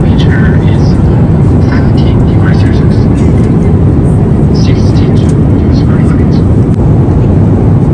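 A China Southern Airlines airliner descends before landing, heard from inside the cabin as a loud, constant roar of engines and airflow. Voices murmur faintly underneath.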